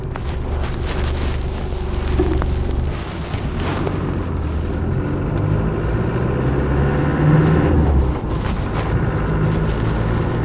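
Land Rover Defender 90 200TDi station wagon driving, a steady low diesel drone from inside the vehicle with wind rumble on the microphone, continuous and fairly loud, with no speech.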